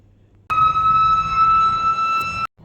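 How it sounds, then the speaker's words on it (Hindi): A steady electronic siren in Bangalore, sounded to mark the Ramadan moon sighting, holds at one pitch for about two seconds, loud and unwavering, then cuts off abruptly. "बस अब थोड़ी देर में सायरन बजेगा"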